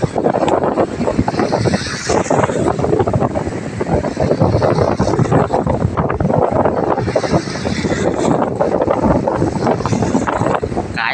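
Strong wind roars steadily across the microphone at sea on a shrimp-catching boat, with constant buffeting, loud and unbroken, with faint water and engine noise underneath.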